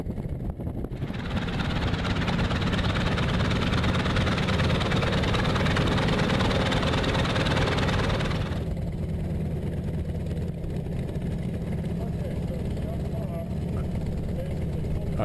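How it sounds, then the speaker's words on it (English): A Grumman Wildcat FM-2 radial aircraft engine roars loud and steady at idle, then is shut off with the mixture to idle cutoff, leaving a lower rumble as it winds down, with a voice talking over it. "I'm shutting the engine off with the mixture, going back to idle cutoff. There goes the RPM."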